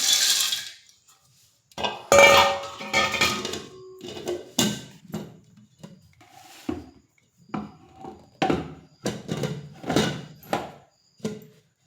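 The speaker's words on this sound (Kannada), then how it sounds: "ಮೊದಲು 250 ಗ್ರಾಮ್ 1 kg ಶೇಂಗಾ ಕಾಳು ಇದಕ್ಕೆ ಹಾಕ್ತೀನಿ ನೋಡ್ರಿ" Peanuts, a 250 g to 1 kg batch, tumble into a pan in a string of close, loud rattling bursts with short gaps between pours, no voices over them.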